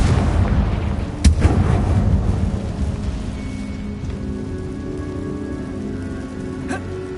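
A Confringo fire spell cast in Hogwarts Legacy lands as a loud explosive burst with a sharp crack, then a dense rumbling crackle that fades into a steady hissing roar.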